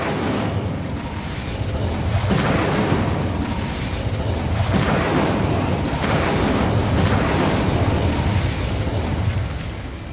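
Incendio fire spells cast in Hogwarts Legacy, a sustained loud roaring blaze with repeated booming flame bursts pulsing every couple of seconds.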